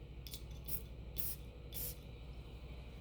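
Three short hissing bursts from an Abdul Samad Al Qurashi perfume atomizer, close and distinct over a quiet room background.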